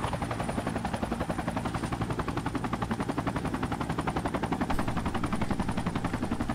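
A helicopter door machine gun fires in Project Reality on the Goose Green Falklands map, a steady rapid rhythmic stream of shots over the loud drone and thumping rotor of the helicopter.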